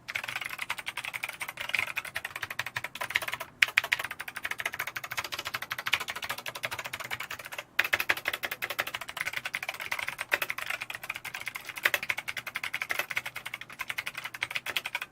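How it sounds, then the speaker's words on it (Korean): Fast, steady typing on an Echo Hacker K660 mechanical keyboard with blue switches, a dense run of sharp clicky keystrokes close up that continues for the whole span, with only two brief pauses. "청축 소리예요."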